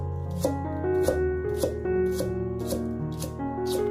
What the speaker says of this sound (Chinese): 准备一根大葱，1分为2，再2分为4，然后将它切成葱花。